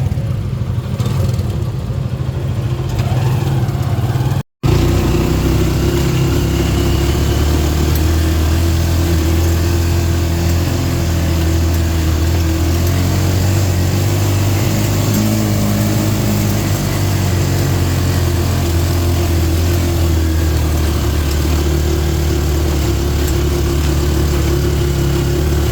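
Engine of a brown jeep or tricycle during a ride in the Philippines, a loud, steady low rumble running continuously for the whole stretch after a short break near the start.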